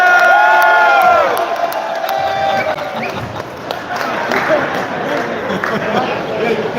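A crowd cheers and whoops for Santa Claus during a live fishing stream, loud at first with an overlapping voice, then lingering rowdy shouts and scattered calls.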